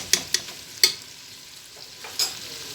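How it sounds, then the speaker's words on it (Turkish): Tomato paste and pepper paste sautéing in a pan, a soft low sizzle broken by a few sharp spatula clicks and stirring taps, close and quiet with no talk. "Kokusu çıkana kadar buna da kavuracağım güzelce."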